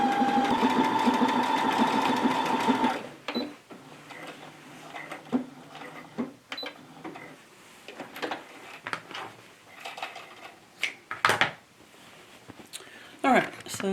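A sewing machine stitches fabric placemats, running with a loud steady whir for about three seconds and then stopping, leaving scattered handling clicks and taps from the fabric and machine.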